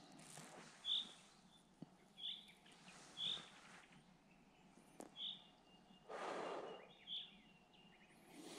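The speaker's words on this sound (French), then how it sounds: "Écoute les oiseaux, tiens." Birds chirp outdoors in a quiet setting, short high calls repeating every second or so, fairly faint over a soft background hush with a few scattered rustles.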